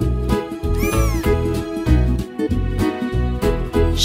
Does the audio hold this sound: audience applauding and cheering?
no